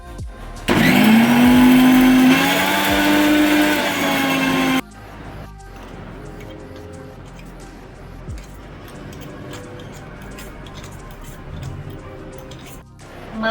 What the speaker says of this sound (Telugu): ఇప్పుడు ఈ మిశ్రమాన్ని మనం మిక్సీ జార్లో వేసుకుని మెత్తగా పౌడర్ చేసుకుందాం.